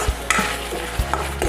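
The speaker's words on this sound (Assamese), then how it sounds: "এইখিনি আমি ভালদৰে লৰাই থাকিম, লৰাই ভাজিম" Food is stir-fried in a pan over low heat, with a steady sizzle broken by several sharp scrapes and knocks of a spatula stirring, close and without talk.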